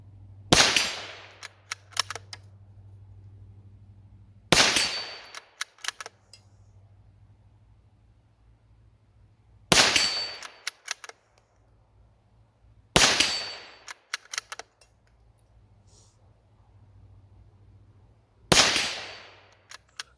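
Five loud, sharp gunshots from a Savage 93 R17 rifle fired offhand outdoors, spaced several seconds apart, each followed by a brief echo and small handling clicks.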